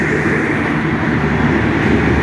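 The Nilsagar Express train entering Saidpur station makes a loud, steady, close rumble of rolling wagons with no pauses and no voices.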